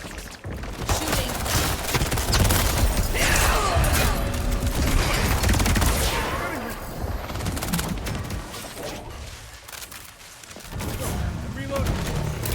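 Heavy gunfire in the video game Highguard, sustained bursts and volleys with booming impacts and crashes layered over each other, loud and busy throughout, with a brief lull near the end before firing resumes.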